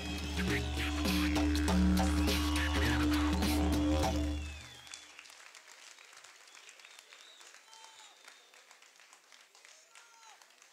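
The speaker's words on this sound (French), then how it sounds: "je vous demande de faire une ovation, un tonnerre d'applaudissements à Gabriel et Thiago" Crowd ovation at a didgeridoo solo battle final, loud sustained clapping and cheering that fades after about four seconds into murmuring and scattered voices.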